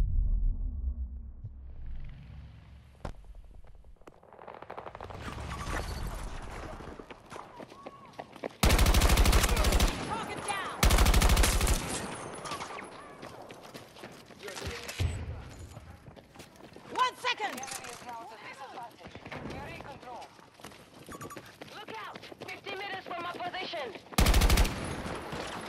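Automatic weapon fire in the shooter game Battlefield 2042 bursts loudly in several short, heavy volleys amid constant busy battlefield noise, with someone talking throughout.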